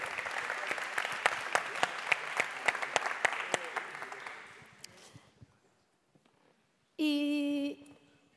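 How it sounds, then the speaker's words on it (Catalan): An audience at a panel on artists' digital rights applauds three guests with crisp, close clapping that fades out over a few seconds into near silence, followed by a short electronic tone. "Un aplaudiment pels tres."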